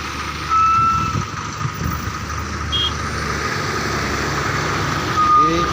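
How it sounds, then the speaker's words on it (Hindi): An overloaded Ashok Leyland truck reverses slowly, its engine rumbling steadily close by while a few short reversing beeps sound at intervals over the low drone. "पीछे छोड़ रहे गाड़ी, दूसरी गाड़ी आती हुई,"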